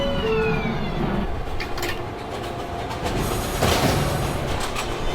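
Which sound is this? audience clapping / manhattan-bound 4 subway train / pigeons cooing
manhattan-bound 4 subway train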